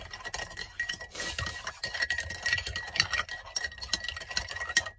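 A spoon stirs barley juice drink with ice in a glass, giving a quiet, continuous run of small clinks and rattles with brief sharper ticks, close by.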